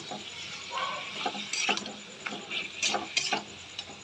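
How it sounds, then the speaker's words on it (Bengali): Chicken meat for a chicken dana kosha curry sizzles as it is tipped into a hot kadai, with soft scraping and clinking of a spoon against the pan in short bursts over a steady frying hiss. "এই যে মাংসটা ঢেলে নেবো এতে কড়াতেই।"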